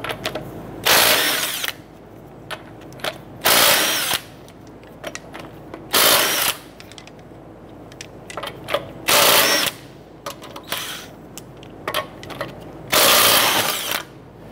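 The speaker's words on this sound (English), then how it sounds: "Using our 19 millimeter socket, we're gonna go ahead and remove our lug nuts." A power tool with a 19 mm socket spins off lug nuts on a 2008-2012 Honda Accord wheel in loud, close bursts of whirring, six separate runs with quieter clinks and handling noise between them.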